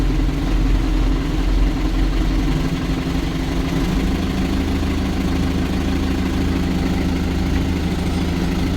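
Case JX 110 tractor diesel engine idling steadily at close range, a loud, even low rumble with a slight lift in the first seconds, running alone without talk.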